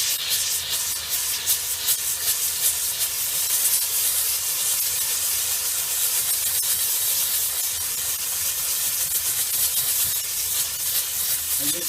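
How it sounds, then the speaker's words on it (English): A steam cleaner fitted with an injection attachment blasts a small grease spot on carpet fibres, giving a loud, steady hiss that runs without a break the whole time, with no voices. "I'm going to hit this small grease area right here with some steam and injection"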